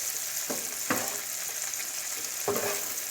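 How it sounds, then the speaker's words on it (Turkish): Steady sizzling of peppers frying in a pan, with a few brief stirring scrapes. "Biberimle kızartayım."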